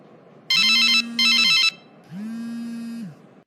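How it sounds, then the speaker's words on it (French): Phone ringback tone while a call is being placed, with two loud warbling rings followed by a softer ring tone, in an evenly spaced pattern with no voices. "Il faut que j'appelle Flora pour savoir si elle est déjà prête."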